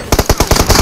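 Rapid automatic cover fire in a mobile battle royale shooter, about eight sharp, loud shots in a fast even rhythm, close up and alone.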